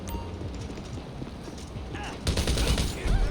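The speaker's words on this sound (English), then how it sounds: "Go within this circle and just start shooting people" Gunfire from shooting enemies in GTA 5 during a daily map mission, with scattered shots over a steady game background, growing into a louder, denser burst near the end while a voice talks over it.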